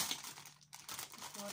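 Snack bag of cheese puffs being torn open, a dense crackling crinkle of plastic packaging close to the mic, with a short pause midway before the rustling resumes.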